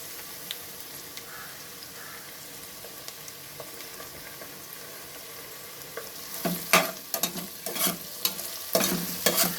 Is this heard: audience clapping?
no